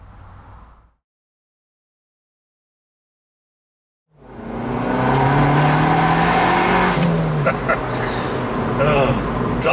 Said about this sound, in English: the noise that exhaust makes